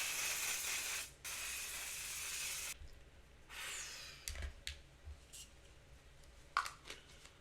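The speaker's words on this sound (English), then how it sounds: "your final seal needs to be from an aerosol, not from a pump super liquidy one" Aerosol setting spray from the brand One Size misted onto a face, two long close hissing bursts followed by breathy exhales and small soft noises, with no talk.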